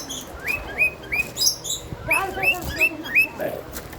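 A pet pigeon gives a string of short, high chirps in quick repeated bursts, close and fairly loud, with a few soft rustles between calls.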